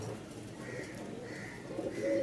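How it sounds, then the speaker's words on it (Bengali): Rajshahi Giribaj pigeons, a yellow-eyed flying breed, coo in a steady, fairly close murmur, with soft overlapping calls rising slightly louder toward the end. "আরও এক জোড়া রাজশাহী গিরিবাজ একদম হলুদ চোখের"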